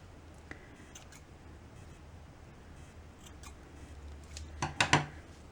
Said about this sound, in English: I'm going to cut these strings because I think they're a little too long